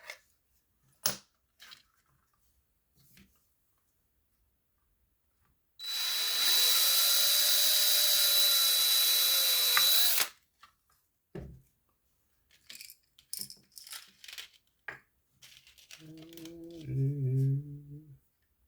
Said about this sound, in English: When you're screwing little screws and drilling holes.